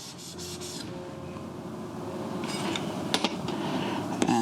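Steel hand plane blade rubbed back and forth on a 1200 grit sharpening stone to remove the burr, a steady close gritty scraping with a few sharper clicks near the end.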